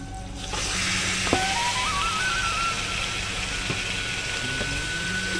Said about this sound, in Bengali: আর আমি সেই নুন হলুদ মাখানো চিকেনটা আমি দিয়ে দেবো।